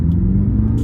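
A BMW M6 gives off a steady, close low engine rumble as it pulls away, holding an even level throughout with no voices.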